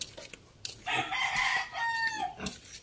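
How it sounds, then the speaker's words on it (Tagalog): A rooster crows once, loud and close, among chickens in a small backyard coop on a hot day, with faint clucks before the crow. "yan po ay ating manukan"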